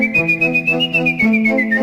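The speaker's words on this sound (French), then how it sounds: "En ce qui concerne le sifflet ce soir" A single sustained whistled tone, clear and close, gliding gently downward in pitch over about two seconds with a steady pulsing accompaniment beneath, during a choir rehearsal.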